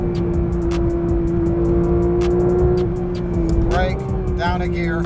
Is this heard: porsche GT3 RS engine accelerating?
yes